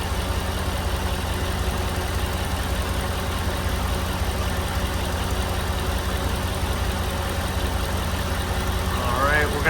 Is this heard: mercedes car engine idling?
yes